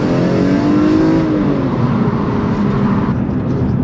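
A BMW E46 M3 with 338 horsepower pulls away hard, its engine note loud and close with rising harmonics as it accelerates, then settling into a sustained roar as the car moves off.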